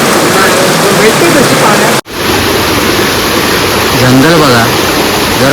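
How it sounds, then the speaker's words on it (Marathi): Loud, continuous rush of river water, broadband and roaring, with a brief cut partway through and a faint voice-like murmur near the end. "पाण्याचा आवाज एवढा येतो"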